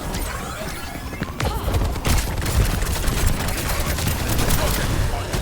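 Rapid video game gunfire in a shooter match, a fast clattering volley that builds after a quieter start and keeps going, loud and close, with a voice faintly mixed underneath.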